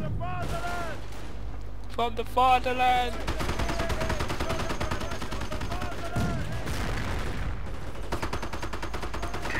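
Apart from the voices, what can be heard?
tank cannon and gunfire in the video game Company of Heroes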